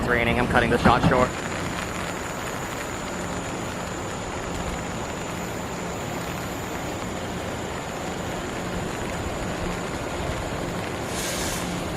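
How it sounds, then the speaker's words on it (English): Steady rain falls on a train station platform on Taiwan's Pingxi Line, a close, even hiss that runs unbroken after a brief voice at the very start. "It's raining, I'm cutting the shot short."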